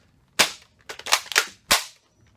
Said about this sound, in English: Whoa, dry fire!